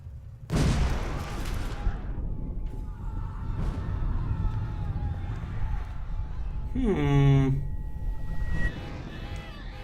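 A bomb goes off in the video game Orwell with a sudden loud blast that decays into a long rumbling tail, followed later by a brief ringing, chime-like tone.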